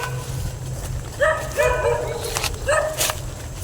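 A pair of small guard dogs watching over a sand pile at a quarry give a few sharp, separated barks, moderately close, over a constant low-pitched background hum.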